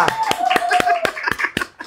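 Several sharp hand claps ring out in quick, fairly even rhythm at a hair styling salon, close and loud, with a voice speaking alongside and a bit of light laughter.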